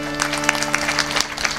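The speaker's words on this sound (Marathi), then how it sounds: "एकदा यांच्यासाठी टाळी वाजवा बरं" Audience clapping at a kirtan devotional gathering, a steady crowd patter with scattered sharper claps over a low sustained hum, fairly close and continuous through the short stretch.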